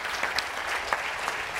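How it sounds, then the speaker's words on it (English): An event audience gives a guest a round of applause, a steady close patter of many hands clapping with a few sharper individual claps standing out. "Let's give a big round of applause for Mr."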